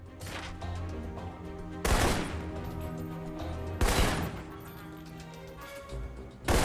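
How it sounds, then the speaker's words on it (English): Assault rifle shots in Alpha Protocol crack out as three loud, spaced reports with ringing tails over a low ambient game hum, and no voices are heard. "For long-range encounters, the assault rifle's the key. It's accurate, powerful."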